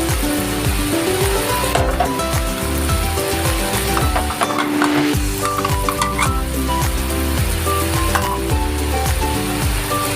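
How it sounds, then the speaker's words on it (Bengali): Noodles with onions fry in a pan, a loud, steady sizzle with rhythmic scraping and clinking as a utensil stirs continuously throughout. "ভালো করে এটাকে নেড়ে ছেড়ে নেব যেন এটা না লাগে"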